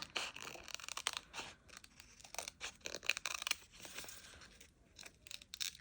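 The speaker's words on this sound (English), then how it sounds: "I'm going to just really quick cut this out" Embroidery scissors cut out a paper piece for a winter-themed planner, heard as quiet, irregular snips and crisp crinkling bursts close by.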